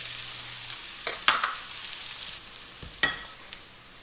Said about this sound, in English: I've got a whole head of garlic in there, and now I'm gonna do 1 small onion. Let that get all sauteed and yummy.